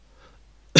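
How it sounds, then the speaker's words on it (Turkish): A single short cough bursts out near the end after a near-silent pause, loud and close. "Bugün öksürerek başlayacağım."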